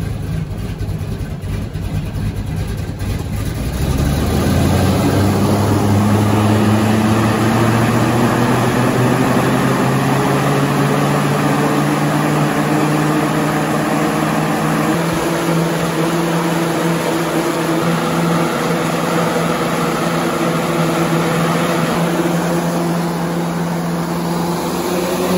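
A fire department brush truck's engine, steady at about 1,000 RPM idle, then revved up and held at a higher, rising drone for the rest of the time, loud and close with no speech.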